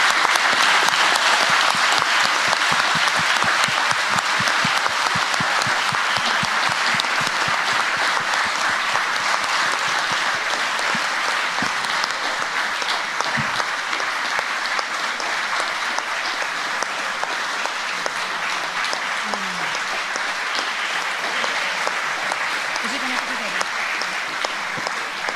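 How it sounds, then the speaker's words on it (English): Sustained applause from a student and faculty audience at Sciences Po for a guest speaker, dense and loud throughout, with a few faint voices underneath. "I would really ask you now to give a huge applause to our guest"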